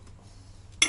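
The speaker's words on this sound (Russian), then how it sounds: "Вот эта крышечка от чайника." A china teapot lid knocks against cups in a single sharp, bright clink at the very end, after a near-silent stretch with faint room background.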